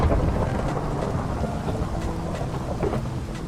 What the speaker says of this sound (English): It's thunderstorming on the server.